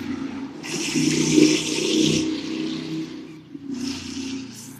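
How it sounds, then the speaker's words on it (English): A motorbike roars past close by, its engine rising and then fading, followed by another engine buzzing in the distance. "people are still out on their motorbikes, and you heard that one"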